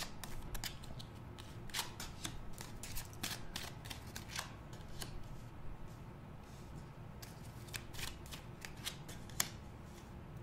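Kipper fortune-telling cards being shuffled, a steady run of soft papery riffles and snaps repeating through the whole stretch, close and fairly quiet with no voices.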